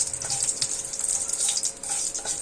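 Dried red chillies and mustard seeds fry in hot oil with a steady, close crackling sizzle and scattered small pops throughout, no voices.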